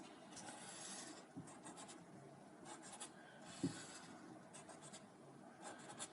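A pen scratches across paper drawing parallel lines, a quiet continuous rubbing in two long strokes with a short pause between them, no talking.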